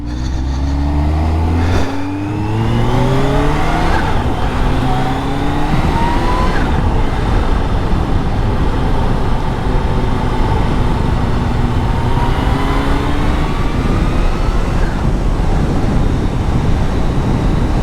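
A supercharged 2022 Kawasaki ZH2 SE motorcycle engine runs through a tight U-turn, its loud, steady drone rising and falling as the revs sweep up and down repeatedly, close by and with no voices.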